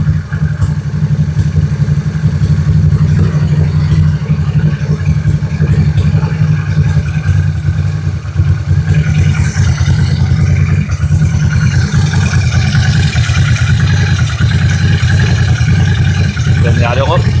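Honda NTV650 motorcycle engine idling steadily during carburettor adjustment and balancing, a loud close continuous low thrum with slight shifts in pitch as the screw is turned, occasional mechanical rattles over it.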